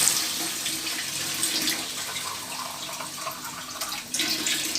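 Water poured into a pot of potato curry (alur dom) after the spices are fried, giving a steady, close splashing pour that runs through the whole stretch, dipping briefly near the end before continuing.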